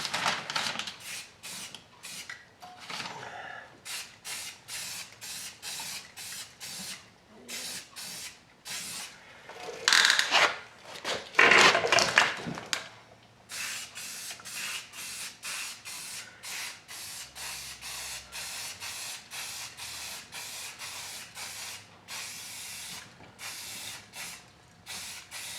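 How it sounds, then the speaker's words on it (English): Short bursts of spray primer hiss onto a rust repair on a 1985 GMC Squarebody truck, with rattling and clicking between passes and one louder, longer spray in the middle. "Give it a shot of primer. Give it a couple of coats"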